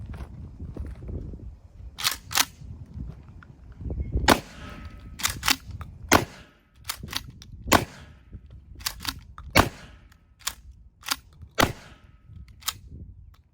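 Mossberg Shockwave 590 shotgun fired outdoors in a quick string of sharp, loud reports spaced a second or two apart, each followed by a short echo, with some faint low background noise between shots.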